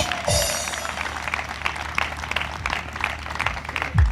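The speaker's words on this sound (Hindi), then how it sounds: "तालियां लगातार बजती हैं।" Steady applause from a church congregation, a continuous wash of many hands clapping at moderate distance, with brief bursts of voices and low thumps on top.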